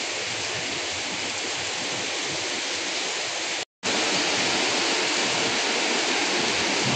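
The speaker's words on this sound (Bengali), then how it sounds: "কত জোরে বৃষ্টি হচ্ছে" Heavy rain pours down on a rainy morning, a dense, steady roar of falling water that stays loud and unbroken, apart from a momentary cut near the middle.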